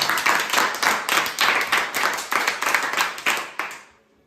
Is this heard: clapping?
yes